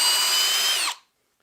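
A Kobalt drill driver whines loudly at a steady pitch while boring through material in a side-by-side drilling test, then winds down and cuts off abruptly into silence.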